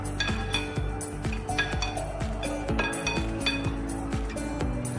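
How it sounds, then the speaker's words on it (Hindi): A spoon clinking against a bowl while paneer paratha stuffing with salt is mixed, with quick repeated metallic taps and scrapes at close range. "अब हम इसे अच्छे से मिक्स कर लेंगे।"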